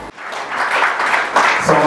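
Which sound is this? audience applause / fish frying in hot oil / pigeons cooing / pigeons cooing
audience applause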